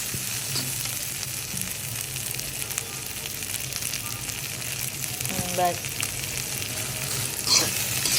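Dried red chillies frying in a pan with a steady close sizzle and crackle, stirred now and then with a few scraping clicks, and no talking.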